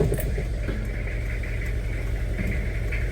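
A Toyota Kijang Krista diesel engine idles with a steady low rumble and even mechanical chatter, close and continuous, with no voices.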